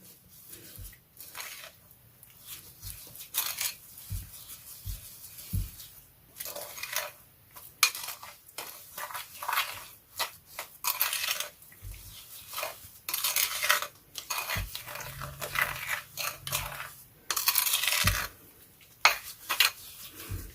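A spoon mixes homemade pink lip scrub in a small bowl, giving irregular scraping and clinking taps against the bowl with soft squishy pauses between bursts. No voices.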